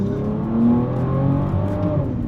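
Bentley Bentayga Speed W12 engine downshifting and accelerating, a steady deep engine drone that rises smoothly in pitch, heard from inside the cabin.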